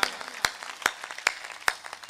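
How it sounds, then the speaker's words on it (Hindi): A handful of separate, crisp handclaps from a comedy show audience, about five isolated claps spaced roughly every half second, fairly quiet with no continuous applause. "एक बार तालियां बजाओ मस्ती में"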